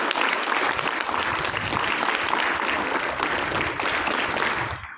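An audience claps for themselves at a motivational talk, a dense, steady burst of applause that holds loud for about five seconds and then quickly dies away.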